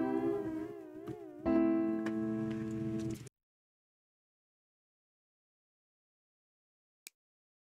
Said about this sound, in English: So I can insert a sine,